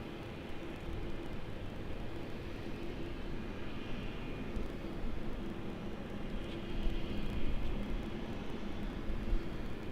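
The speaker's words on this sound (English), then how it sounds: "We got the Cathay 777 there on the move as it heads up towards runway 16 right." A Cathay Pacific Boeing 777 taxiing at night at Sydney Airport toward runway 16 right, a faint distant steady jet engine rumble and hiss that swells slightly toward the end, with no talk.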